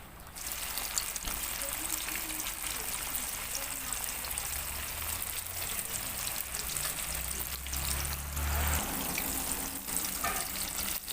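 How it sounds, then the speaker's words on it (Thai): Batter-coated tofu, dusted in crispy frying flour, sizzles steadily in a pan of hot oil, giving a continuous dense crackle that holds at an even level throughout with no talk over it. "เดี๋ยวเราเอาเต้าหู้ที่คลุกกับแป้งทอดกรอบลงมาทอดกันได้แล้วนะคะ"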